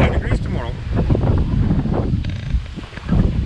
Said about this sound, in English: Ooh, it's windy. Might be a lot of wind noise.